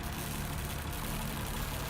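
Diesel generators run inside a shed in a video game, giving a continuous, even engine drone with a low throbbing idle that holds steady throughout, close and alone without any voices.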